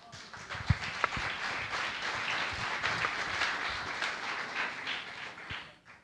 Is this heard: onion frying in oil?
no